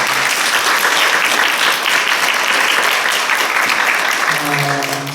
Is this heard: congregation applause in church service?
yes